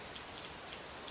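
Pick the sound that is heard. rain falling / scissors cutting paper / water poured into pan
rain falling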